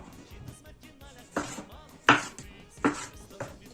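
Several sharp knife chops hit a cutting board at uneven intervals as tomatoes are cut into quarters, with faint background noise between the cuts.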